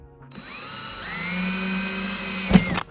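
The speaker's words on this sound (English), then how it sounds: "I'm gonna go ahead and drill" A power drill whirs steadily for a couple of seconds, ramping up then holding a high whine before stopping with a brief clunk, drilling into a Mercedes Sprinter van body to install windows.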